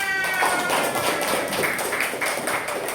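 Schoolchildren in a classroom clap their hands together, a steady, busy patter of many claps close by that carries through the whole stretch.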